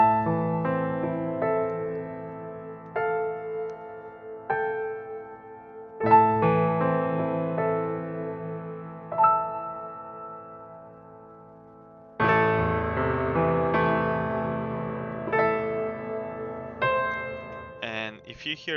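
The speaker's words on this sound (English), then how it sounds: "So this is actually Cinematic Studio piano." Cinematic Studio Piano, a sampled virtual piano, plays slow sustained chords and melodic notes that ring and decay, building to a fuller, louder passage in the second half.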